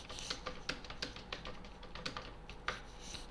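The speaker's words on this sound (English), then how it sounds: "So now I have typed a sample text." Computer keyboard typing of sample text in a text frame in Scribus: steady, fairly quiet key clicks with irregular bursts and a few sharper taps, no voices.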